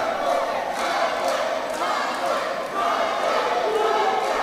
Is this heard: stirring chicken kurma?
no